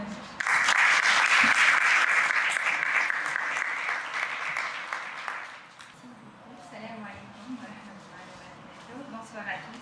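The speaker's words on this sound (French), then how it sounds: "Je vous demande de l'applaudir bien fort" Audience at a lecture on Arab-Muslim sciences hosted by a student association bursts into loud, dense applause that gradually thins and fades, followed by a voice speaking in the quieter room.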